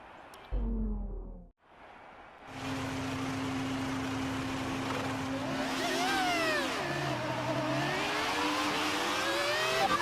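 Race car engine from the F1 2018 video game in Bahrain career mode at the race start, a loud sustained engine drone that rises and falls in pitch as it revs and shifts, building from a short quiet gap into a steady roar.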